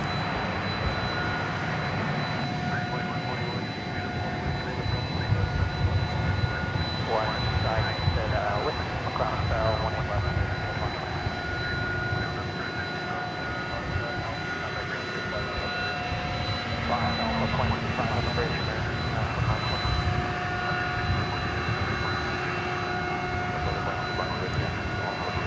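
UPS Boeing 767 jet at DFW Airport at night, a continuous distant engine rumble and whine beneath a person talking steadily, with faint tonal hums throughout.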